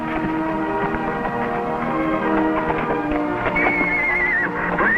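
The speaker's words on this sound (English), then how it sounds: "Fine-looking horse." Horses whinny and neigh over a busy, steady rumble, with a high quavering neigh near the end; hoofbeats blur into the background.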